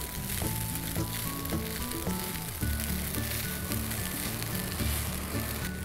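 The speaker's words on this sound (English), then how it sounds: "So add in the freshly chopped coriander and mix it well." Chilli coriander fried rice sizzles steadily in a hot pan while it is stirred and mixed, a dense continuous frying hiss with faint scraping, close up and without speech.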